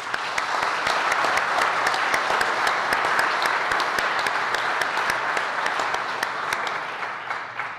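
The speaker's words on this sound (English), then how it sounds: "I wouldn't mind giving them a round of applause if we can" A room of citizen assembly attendees gives a sustained round of applause, dense steady clapping from many hands at moderate loudness, holding evenly for nearly eight seconds before easing slightly at the end.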